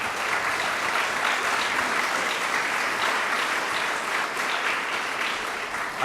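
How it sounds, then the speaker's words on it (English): Audience applause at a medical marijuana bill signing event, sustained dense clapping from a large crowd, steady and moderately loud for the whole stretch with no speech over it. "they both deserve another round of applause"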